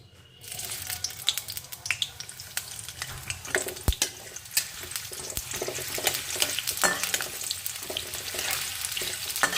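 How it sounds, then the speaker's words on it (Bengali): Chopped onions sizzle steadily in hot mustard oil for aloo posto, a dense crackling hiss with scattered sharp pops and spatters. A few louder clicks of a utensil stand out, close and continuous, with no talking. "আমি এই পেঁয়াজ কুচনোটা সর্ষের তেলের মধ্যে দিয়ে দেবো"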